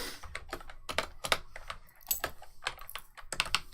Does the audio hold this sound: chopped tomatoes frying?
no